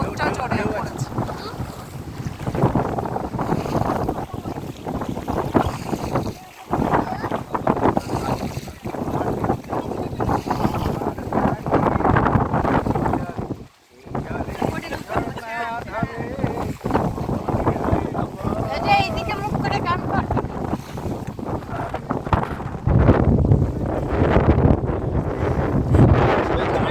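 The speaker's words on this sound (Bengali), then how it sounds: "হাওয়াও জোর আছে আর স্রোতটাও জোরে পড়েছে।" Strong wind and a fast river current during rafting on the Teesta River, with loud continuous rushing water and gusting wind buffeting the microphone throughout, briefly dropping out twice.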